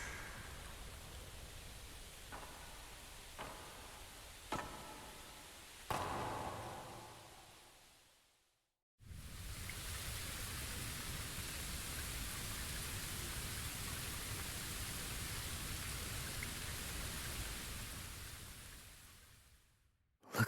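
Steady rain falls in the video game Bleach: Rebirth of Souls, a broad even hiss that fills the scene for many seconds after a brief lull, with a few soft knocks and thuds before it.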